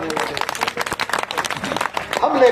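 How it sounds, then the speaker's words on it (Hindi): An audience bursts into uneven clapping in surging bursts, with voices mixed in throughout and a few louder swells near the end. "तालियां बजाओ हाथ खड़ा करने वाले।"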